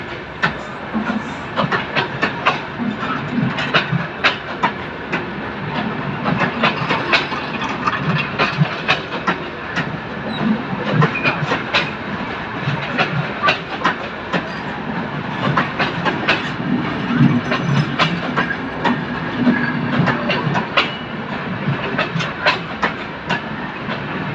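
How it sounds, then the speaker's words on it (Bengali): An intercity train rumbles past at a slow pace, wheels clattering over rail joints in an uneven rhythm, loud and close throughout. "এই ট্রেনটা দেখুন সম্পূর্ণ কিন্তু ধীর গতিতে চলতেছে।"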